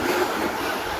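Broad, roaring wash of large ocean waves breaking at a beach, a loud continuous rush of surf with no distinct pauses and no voices.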